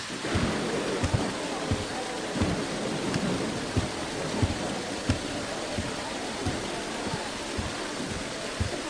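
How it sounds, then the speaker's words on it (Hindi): Steady heavy rain hisses throughout a dramatized storm scene, with repeated short low thumps that may be distant thunder. "तुम तो बारिश को देखो जिससे फद्दान को कहर से निजात मिलेगी"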